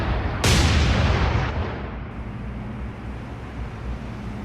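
Heavy naval guns aboard the cruiser Brooklyn in War on the Sea firing star shells, one loud deep boom that rolls away into a long fading rumble, with no talk.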